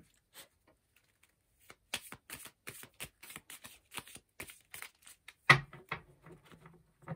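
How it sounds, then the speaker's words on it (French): Tarot cards drawn and shuffled from a deck, a series of short close crisp flicks and snaps, one sharper louder slap near the end, otherwise quiet between them with no talking. "Je vais tirer 5 cartes."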